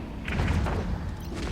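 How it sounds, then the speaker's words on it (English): Deep, booming explosions from a five-versus-five PvP space battle in EVE Echoes rumble continuously as muffled low thuds, fairly loud, with no talk. "now we have more explosions"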